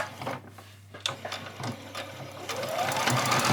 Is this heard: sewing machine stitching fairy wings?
yes